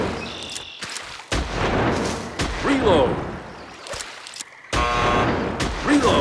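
Rapid gunshots fired at pheasants in a Wii hunting video game, several sharp loud bursts in quick succession separated by brief gaps, with electronic game sound effects between them.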